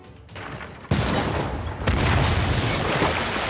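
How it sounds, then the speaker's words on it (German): Cannon bombardment in Civilization VI: Gathering Storm, with two heavy booming impacts about a second apart, each followed by a loud, dense rumbling roar that carries on to the end. "Wir bombardieren natürlich da noch weiter."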